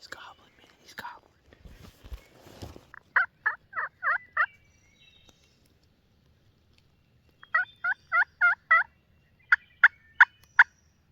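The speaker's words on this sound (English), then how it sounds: "He's gobbling, man. He's gobbling." A wild turkey gobbles from its roost in a Virginia early-season hunt: a burst of rustling and low voices first, then two loud series of five rapid rattling gobbles, followed by sharper clucks or yelps near the end.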